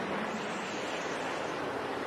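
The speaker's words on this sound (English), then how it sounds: "John and Donna drop us off at the North River chickie as the winds continue to howl" Strong wind roaring across open water at the North River chickee, a raised platform in the Florida Everglades, with a dense, constant rush of wind noise buffeting the microphone and no breaks for the full duration.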